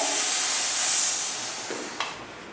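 A steam iron hisses loudly while pressing a blouse, a strong, breathy jet of steam that slowly fades, with a small click near the end.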